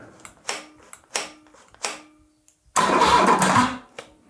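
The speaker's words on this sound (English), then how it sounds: "the Bosch starter motor is not like too heavy, too slow for the ultra bad battery to fire up the BMW" Bosch starter motor cranking a BMW R80 motorcycle engine on a weak battery: several short, sluggish whirring bursts with pauses, then one longer strained churning crank that fails to catch, close and loud with no talk.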